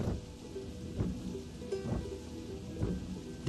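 Rain pours down steadily outdoors while deep rolls of thunder rumble in repeatedly, several low booms swelling over the constant hiss of the downpour.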